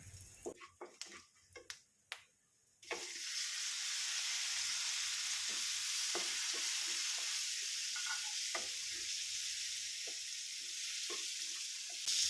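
Boiled jackfruit seeds tossed into a pan of hot spiced oil with curry leaves and chili powder: a few sharp crackles and pops, then a steady loud sizzle with occasional stirring clicks.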